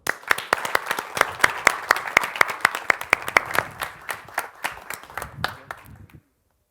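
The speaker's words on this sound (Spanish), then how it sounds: "Un aplauso." Audience applause at a security conference session, a dense run of hand claps from a crowd at steady volume that fades out after about six seconds, ending in silence.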